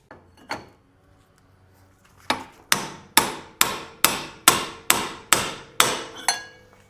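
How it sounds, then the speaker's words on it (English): A metal hammer strikes a pickle fork to pop out an upper ball joint on a 2004 Honda Recon 250, about ten sharp ringing blows in a steady rhythm after a couple of isolated hits. "let me hammer this pickle fork and hopefully pop this ball joint out"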